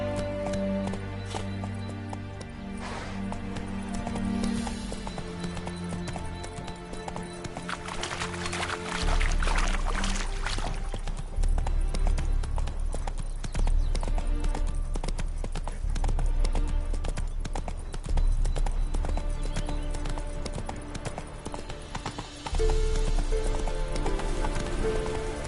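Roach the horse gallops through The Witcher video game world, a steady run of hoofbeats under a loud, full orchestral music bed, with a brief rider's shout.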